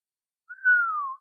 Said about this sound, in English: The stranger whistled.